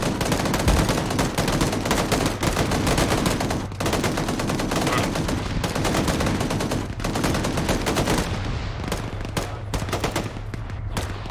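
.50 caliber machine gun fire in ArmA 3 platoon combat, loud sustained bursts of rapid shots with short pauses, dense and close, easing slightly toward the end.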